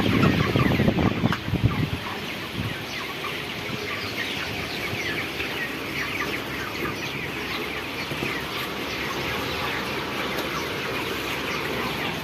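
Broiler chickens in a farm shed during hot weather cluck and chirp as a steady, dense flock murmur, with a louder burst of fluttering and clucking near the start.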